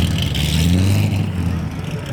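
A car with an LS3 V8 engine gives a steady, deep, loud rumble at a car show. The sound is close and continuous throughout.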